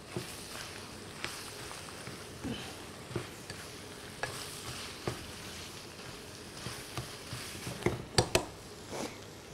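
Food being stirred and mixed in a pan gives soft sizzling with scattered scraping knocks of a utensil, getting busier with a quick cluster of clinks near the end, close and without talk.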